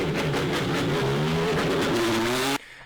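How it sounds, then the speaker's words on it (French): Red Bull RB14 Formula 1 car heard onboard at Silverstone, its engine a loud, steady high-revving whine with harmonics climbing through upshifts, then cutting off abruptly near the end. "le moteur fait quand même un bruit de V6 bien atmosphérique, ou même de V12"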